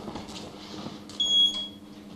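Electronic beeping inside the horror video game Outlast: a single sharp, steady high beep lasting about a third of a second, rising clearly over a dim rumbling game ambience.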